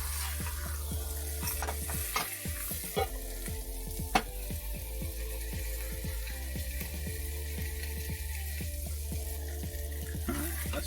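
A quesadilla sizzles steadily in a hot pan, a close, continuous frying hiss broken by scraping and a few knocks as it is flipped over, with no talking.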